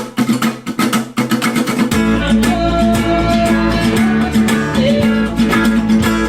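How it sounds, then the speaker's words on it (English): Fast, rowdy percussive acoustic guitar strumming opens, then a full band enters with driving chugging guitar rhythm, bass and drums, loud and continuous; a track played on vinyl. "He's playing this very rowdy chugga chugga chugga chugga sort of a rhythm."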